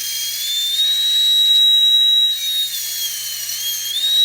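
A high-pitched rotary burr whines steadily up close as it carves a duck eggshell, its pitch wavering slightly as it grinds, with no voices.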